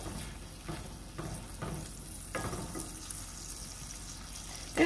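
Onions soften in olive oil in a pan, making a faint, low sizzle with soft, periodic bursts as they are moved about, quiet and without speech.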